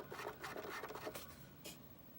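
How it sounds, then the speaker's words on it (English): A faulty Sega CD drive that won't read discs rubs as it turns, making a faint, close, steady scratchy grinding with a brief brighter scrape near the end, with no talking. "You hear that rubbing?"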